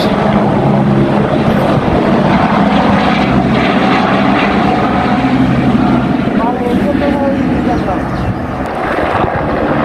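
A low-flying aircraft sprays pesticide over date palm trees, its propeller engine droning loudly and continuously at close range, with voices talking under the roar.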